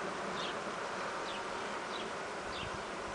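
Honey bees drone steadily at a hive, a dense, continuous buzz close to the mic, with individual insects passing now and then and no voices.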